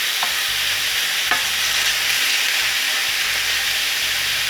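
Steady bright sizzling of food cooking down in a pan, a continuous close hiss with a faint clink or two and no voices.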